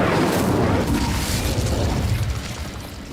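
A whooshing, roaring burst of flame from the Incendio fire spell in Hogwarts Legacy, loud and close at first, then a crackling rumble that fades slightly over a few seconds, with no talking.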